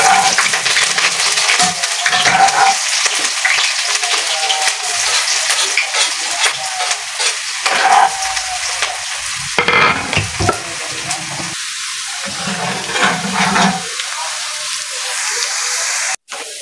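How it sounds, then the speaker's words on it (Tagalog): Garlic and onion hitting hot oil for pastil, a loud crackling sizzle with repeated spatula stirs and scrapes, fading briefly near the end before a short cut-off. "Lagay na natin ang bawang at sibuyas kasi mainit na."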